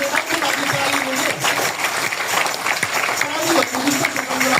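An audience at a church sermon claps continuously, a brisk mass of hand claps heard up close while a voice carries on over it.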